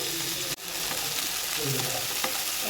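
Green chilli, ginger and garlic sauté in a pan for a pickle, giving a dense, steady sizzle with a brief dip and soft stirring scrapes, close and continuous.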